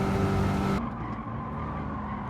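A race car in Gran Turismo 7 on PSVR2 roars with engine and tire noise, loud and close, then cuts to a quieter, duller rumble partway through.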